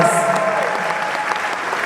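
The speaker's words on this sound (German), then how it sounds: "Ganz großer Applaus für die Band!" Concert audience applauding the band, a dense, steady wash of clapping and cheering that stays loud and close for the whole stretch, with no talk over it.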